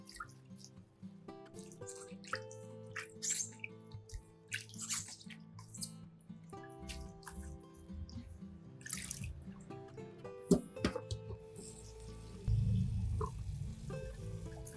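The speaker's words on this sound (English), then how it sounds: "I rinse the green onions 1 or 2 more times until they are completely clean" Green onions being rinsed by hand in water, with soft continuous splashing, dripping and sloshing close by, and a heavier pour of running water near the end, with no talk.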